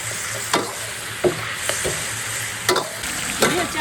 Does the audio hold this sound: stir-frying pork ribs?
yes